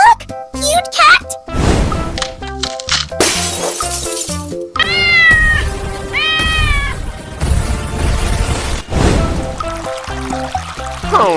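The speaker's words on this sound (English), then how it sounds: "Look! Cute cat!" A cat meows repeatedly in rising, wavering calls amid busy game music, crashing and splashing effects, loud and close, with excited voices talking around it.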